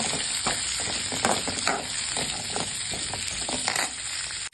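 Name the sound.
frying onions and green chillies in a pan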